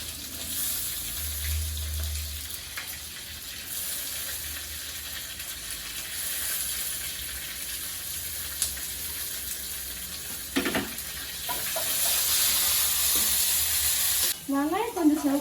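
Sliced onion, crushed garlic and curry leaves fry in hot oil in a pan, a constant close sizzle and crackle with a few scraping stirs and a clatter of utensils toward the end.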